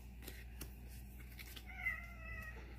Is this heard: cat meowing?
yes